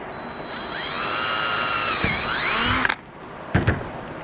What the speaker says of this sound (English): I've just got a regular cordless drill.